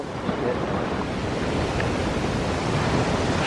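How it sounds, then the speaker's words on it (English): Ocean waves surge and break on an Ivory Coast beach in West Africa, a steady loud wash of surf close by, with no voices. "Holy cow, these waves are coming up high."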